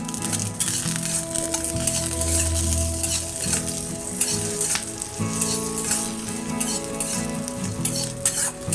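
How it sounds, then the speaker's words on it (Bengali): Urad dal, the split black gram, fries slowly over a low flame in a pan, giving a steady close sizzle with stirring and occasional scrapes of a spoon against the metal throughout. "বিউলির ডালটাও আমি লাল লাল করে ভেজে নেব"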